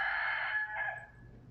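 A rooster crowing among free-roaming chickens in Key West, one loud, close crow holding steady for about a second before fading, with no talk over it.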